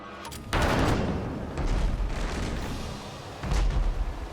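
Ship cannons firing at enemy sails in the naval game Abandon Ship, three heavy booming volleys in a row, each one rumbling and crackling out before the next begins.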